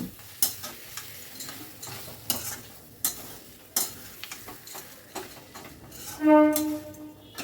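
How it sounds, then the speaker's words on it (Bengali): Chickpea paste frying in a wok is stirred constantly, with repeated scraping strokes of the spatula in an irregular rhythm over a soft sizzle, close by and moderately loud, and a brief tonal ring near the end. "অনবরত কিন্তু নাড়তে হবে, নাহলে কিন্তু কড়াইতে পোড়া লেগে যাবে"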